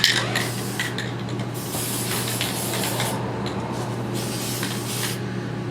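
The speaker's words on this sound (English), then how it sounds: "I'm going to coat with the UV stable outer coating." A steady, continuous spray hiss as a UV-stable outer coating is applied over a pinhole repair, holding at an even level with no pauses and no talking.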